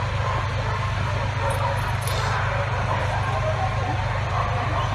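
A mother dog with puppies out on a snowy walk, giving a few yips and barks amid steady low rumbling background noise, with a voice speaking now and then.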